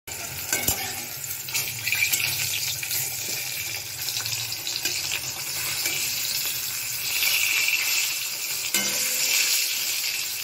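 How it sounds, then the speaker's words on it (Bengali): Pointed gourd (potol) frying in a pan in a home kitchen, with a steady sizzle throughout, a few sharp clicks and faint tap-water sounds in the background, and no talking. "আমার পটল ভাজা হয়ে গেছে"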